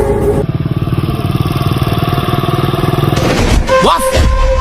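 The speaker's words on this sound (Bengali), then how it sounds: "বস বস একটা মোটরসাইকেল আসছে তো বস" A motorcycle engine runs loud and close on a road, holding a steady buzzing drone before fading, followed by a brief burst of voices.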